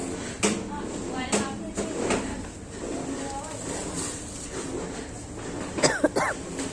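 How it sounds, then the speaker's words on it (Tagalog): Several sharp coughs scattered through a close, busy kitchen-like background, with a throat-clearing burst near the end. "Inuubo ako guys."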